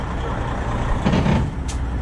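A heavy truck's air brakes at a rotator tow winch-out job, a short sharp hiss of released air bursting over the steady low idle of the big diesel engine.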